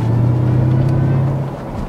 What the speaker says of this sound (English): And when I'm accelerating right now, you only hear the supercharger